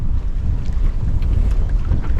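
Wind gusting across a sailboat under sail alone with no engine, leaving a mooring near town and heading toward open ocean in Tonga; steady loud low rumble of wind buffeting the microphone with water rush, no voices.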